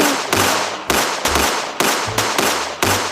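Pistol gunshots fired into the air at a funeral, about six sharp outdoor cracks spaced roughly half a second apart, each with a short echoing tail, no talking between them.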